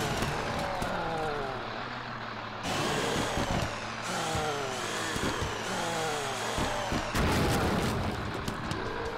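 Twin saws mounted on a vehicle in the game Earn to Die grind and whine continuously over a rumbling engine, loud and near, with sharp impacts and crunches scattered throughout.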